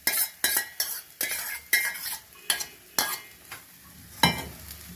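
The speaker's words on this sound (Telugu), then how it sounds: "ఈ రైస్ అంతా వేసి కలిపియాలి." Rice being stirred into moringa leaf spice powder in a pan, a spoon scraping and tapping in about ten distinct, evenly spaced strokes, close and clear with no talking.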